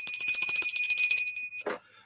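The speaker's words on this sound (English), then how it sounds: "We're cleansing the space by ringing the bell" A small bell rung to cleanse the space during a psychic tarot session, giving bright sustained ringing tones with rapid repeated strikes that stop abruptly, followed by a brief soft rustle.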